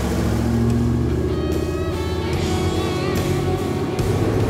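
An off-road vehicle engine, heard alongside a Ford Bronco and Toyota Land Cruiser, runs in a steady loud rumble with a deep idle tone and slight rises in pitch, no talk over it.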